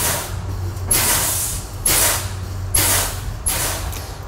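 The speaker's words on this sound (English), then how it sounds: "I will depress the brake in order to go ahead and lower the pressure" A bobtail truck's air brake pedal is pumped repeatedly to bleed down system pressure, giving four loud bursts of hissing air at roughly one-second intervals over a low steady idle.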